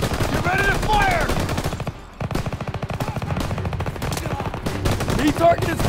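Rapid machine-gun bursts and rifle shots crackle through a Call of Duty WWII battle, dense and continuous, with shouted voices mixed in.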